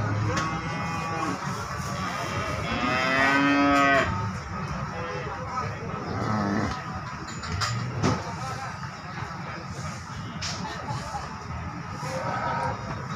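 PO cattle mooing at the Muntilan livestock market, one prominent drawn-out moo near the start over a busy market din of crowd murmur and vehicle noise, with people talking nearby.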